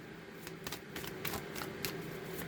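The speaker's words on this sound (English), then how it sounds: "Let's get a good shuffle here." A deck of tarot cards shuffled by hand, a quick run of crisp riffling flicks repeating in bursts, close and fairly quiet with no talk.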